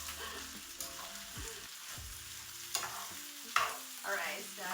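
A spatula pushes food around a pan in a quiet home kitchen, making soft intermittent scrapes and taps over a faint low sizzle, with occasional clatter of the utensil.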